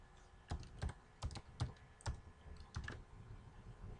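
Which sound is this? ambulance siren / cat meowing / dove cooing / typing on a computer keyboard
typing on a computer keyboard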